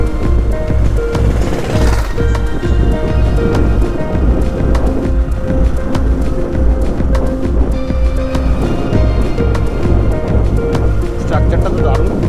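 Heavy rain pouring at Udaypur Beach near Digha, a loud dense continuous hiss and patter, with a deep steady rumble beneath and a voice talking over it.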